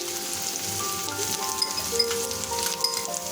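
Chopped onion and garlic fry in a wok with a soft, even sizzle, heard close over faint steady tonal background sounds, with a few small pops.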